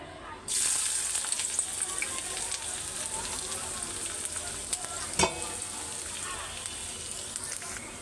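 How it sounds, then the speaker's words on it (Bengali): A large batch of onions hits hot oil for a tempering meant for goat meat: the sizzle bursts in abruptly and then holds as a loud, crackling hiss, with one sharper stirring knock midway. "এখানে অনেকগুলি পেঁয়াজ নিয়ে আমি এটার এখন বাগার দিব"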